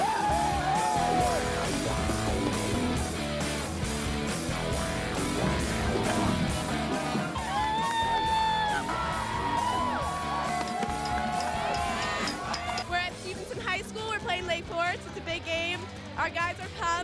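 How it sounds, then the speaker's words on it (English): A crowd of fans at an away football game, Scouts vs Patriots, yells, cheers and whoops loudly and continuously, a dense wall of voices with shouts rising above it. "we're all here cheering on our team"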